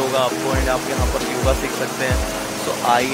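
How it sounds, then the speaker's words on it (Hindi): River water flows in Rishikesh, making a constant broadband rush close by, while a person talks over it the whole time. "आप सुन सकते होंगे मेरे पीछे जो है अभी पानी की साउंड आ रही है"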